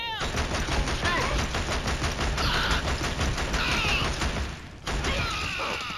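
Rapid automatic gunfire from the Killzone shooter rattles on continuously in dense, loud bursts with overlapping shots and mechanical clatter, briefly dipping before resuming.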